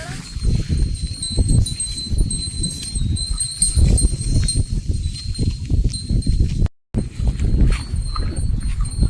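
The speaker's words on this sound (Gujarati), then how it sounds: "ઉધરેશ વડવાળા મંદિર ની ગાયું" Cows at a temple cowshed at Dudhrej Vadvala temple make a steady, close mix of shuffling, breathing and herd noise, with faint high ringing tones running throughout and a brief drop-out near the end.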